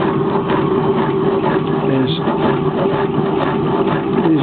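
A homemade hot air engine with linear bearings, a hundred of them sliding up and down like curtain rails, running steadily with a loud, continuous mechanical rattle and hum that stays even throughout.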